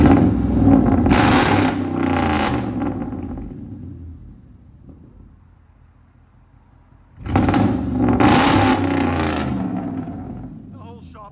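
A truck engine revving loudly indoors in a shop, with two long roaring bursts separated by a fading idle lull, booming and close.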